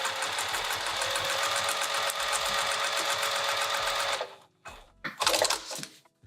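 A sewing machine top stitches a seam on a key chain pouch, running in a close, fast, steady mechanical whir for about four seconds, then stopping, followed by a few short handling rustles.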